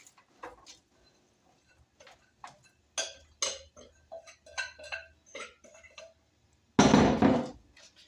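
Homemade granola being spread and pressed into a pan, a scattered series of close clicks, taps and scrapes of a utensil against the pan, ending with a louder rough scraping push.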